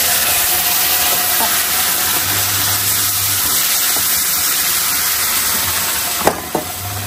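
Boiled mutton for mutton chukka is poured into a hot pan and gives off a loud, steady hiss. A couple of sharp clatters from the pan come near the end.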